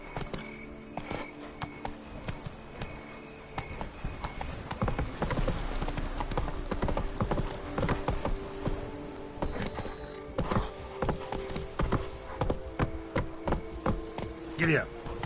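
Horse hooves clip-clopping in a fast, steady rhythm across the ground in The Witcher 3, up close and continuous throughout, with a brief whinny near the end and game sounds around it.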